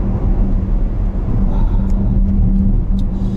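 A BMW XM V8 plug-in hybrid SUV drives along after a change of drive mode. Its engine gives a loud, steady low rumble and hum that continues throughout.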